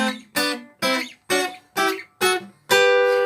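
Guitar double stops played in thirds, a sequence of seven plucked two-note chords, each ringing briefly before the next, with the final chord left to sustain.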